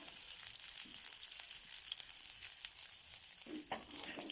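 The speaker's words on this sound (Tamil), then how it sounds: "நெக்ஸ்ட்டு வந்து வெங்காயம் போட்டு வதக்கிக்கலாம். பொன்னிறம் வர அளவுக்கு நம்ம அதை வதக்கணும்." Onion frying with mustard seeds in a pan for beans poriyal, a steady fine sizzle running throughout with a few faint stirring scrapes, moderately quiet and with no voices.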